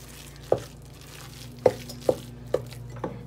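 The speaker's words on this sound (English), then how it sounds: "now I'm gonna give this a mix" Mashed potatoes with salt are mixed in a bowl, and the spoon lands five times in sharp, close knocks at uneven intervals over a low steady hum.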